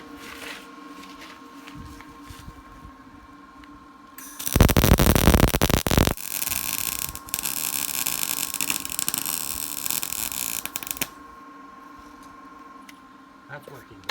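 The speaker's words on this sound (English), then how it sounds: "And I'll keep welding along the side." A small MIG welder runs a bead along the side of a thin-walled pipe at slightly raised voltage: a loud crackling, buzzing arc lasting about seven seconds, framed by a low electrical hum.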